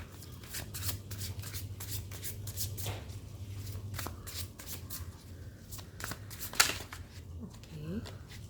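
Tarot cards shuffled and pulled from the deck, a steady dense riffling and flicking with sharp snaps, close and fairly quiet over a low background hum.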